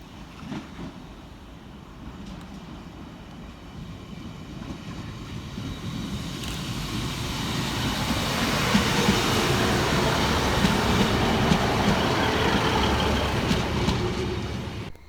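A Transport for Wales Class 150 diesel unit, 150264, arrives at a station between Ystrad Mynach and Rhymney, its low rumble swelling louder and brighter as it draws close.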